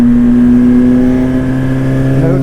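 Car engine after an ECU flash, with a steady, loud droning tone from close by that holds throughout with a slight rise near the end, no sharp throttle blip evident.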